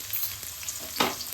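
Chopped garlic fries in oil for a Tamil shark puttu dish, giving a quiet, steady sizzle with a short sharper crackle near the end.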